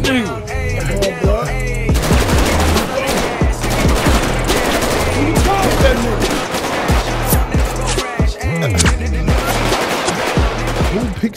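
Gunfire in GTA 5 Online: sustained loud bursts of automatic shots and rapid cracks pile up almost without pause, with voices talking underneath.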